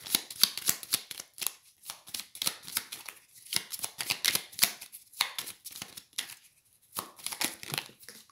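Oracle cards being shuffled by hand, a rapid series of papery riffles and flicks in quick bursts with short pauses, close and fairly loud, with no talking.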